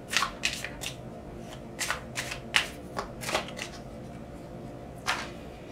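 Quiet, close shuffling of oracle cards for a tarot reading, with short papery flicks in small clusters and a low steady hum underneath.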